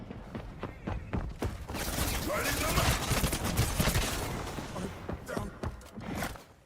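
Dense, continuous gunfire in the Highguard video game, many shots layered into a loud chaotic barrage with booms and mechanical clanks, thinning toward the end; voices are faintly mixed in.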